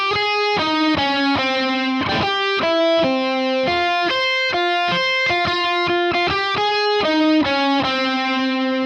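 Distorted electric guitar plays a solo, a run of crisp picked notes at a steady rhythm, close and loud with no talking.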